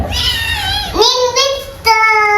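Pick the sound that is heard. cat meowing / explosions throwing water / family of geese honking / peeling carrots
cat meowing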